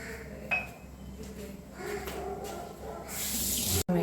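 Water is added to a pan of chilli cauliflower, with a soft clink early and a louder pouring rush near the end, close by.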